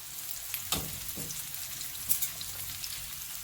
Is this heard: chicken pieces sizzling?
yes